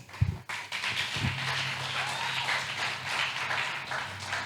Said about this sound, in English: Go ahead and give him a round of applause, please.